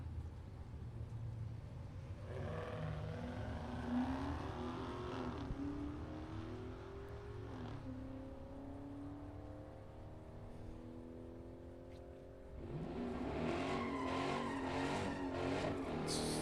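Drag race pass between a 2014 Camaro and a Hellcat Charger at a Super Pro / Pro Elim bracket event, loud engine roar with rising revs sweeping upward through gears, a brief dip, then a renewed powerful surge near the end.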